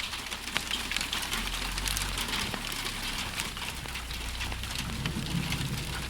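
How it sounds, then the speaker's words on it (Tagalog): Hail falling during a spring storm, a steady dense patter of ice pellets striking surfaces close by, continuous and fairly loud throughout with a low rumble underneath. "It's ice raining at the spring season."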